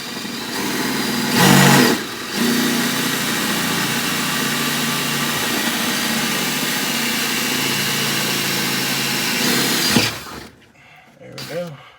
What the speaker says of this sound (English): Get a little left-handed drill action going.